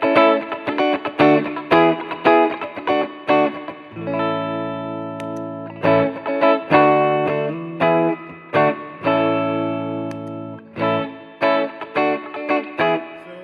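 An electric guitar played through a solid state amp with EQ shaping the tone, alternating choppy strummed chords with longer ringing chords, loud and close with a distorted edge.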